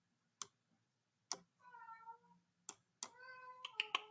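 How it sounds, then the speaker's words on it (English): A house cat meows indoors: two drawn-out, wavering meows rise between several sharp, isolated clicks and taps. The sounds are fairly faint against a quiet room. "it's probably my cat that y'all just heard"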